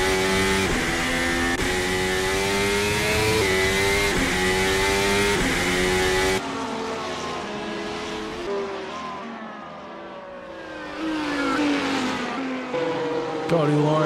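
A race car engine revs loudly during a race, harmonic whines climbing and dropping through gear changes; after an abrupt cut the engine note continues slightly quieter, sweeping up and down at mid distance.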